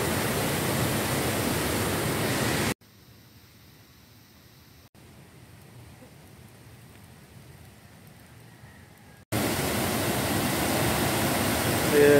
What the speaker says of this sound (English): this is the waterfall here with the it's a clear crystal waterfall here